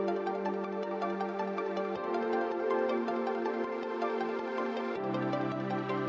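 Layered synth chords, one a wavetable preset, for a remix: steady ambient sustained chords with no gaps, shifting to new harmonies twice.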